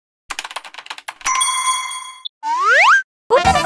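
A bright correct-answer chime rings out with sustained bell-like tones for about a second, preceded by rapid clicky typing and followed by a rising, springy boing and more clatter.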